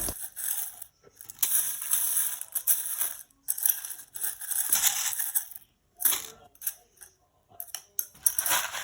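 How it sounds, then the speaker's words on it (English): Small pieces of mini crushed glass being added to resin for a calligraphy wall hanging, giving bursts of crisp clinking and gritty crunching that start and stop in irregular clusters, close to the microphone, with brief silent gaps between and no talk. "Here I have just found the little crushed glass, the mini one, so I just decided to add them too"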